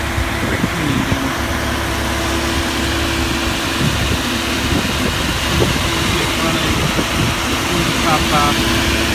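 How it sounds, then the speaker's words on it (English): A Porsche 911 (996) with a rear-mounted 2.6-liter flat-six idles steadily in a loud, continuous low rumble, while a person talks over it throughout. "the engine is in the back. This is a flat 6,"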